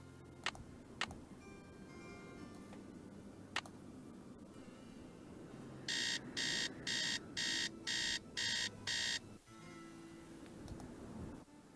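Alarm clock being reset in a Nancy Drew video game: a few sharp isolated clicks, then a loud pulsing electronic alarm beeping seven times in a steady rhythm before cutting off, over low room tone.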